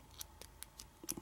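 Picking a blue American padlock brings a quick series of small, faint metallic clicks from the pins, close and sparse, in quiet surroundings.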